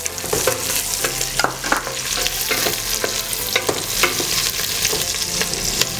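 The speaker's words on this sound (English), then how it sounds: "we'll add some green capsicum, yellow capsicum and" Green, yellow and red capsicum frying with browned onions and garlic for a kidney bean and broccoli stew, a steady close sizzle broken by repeated scraping stirs.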